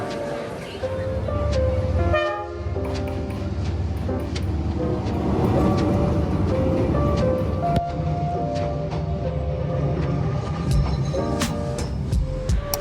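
Steady rumbling train interior noise in Hanoi, Vietnam, with clattering and occasional horn-like tones, continuous throughout, with some voices faintly mixed in.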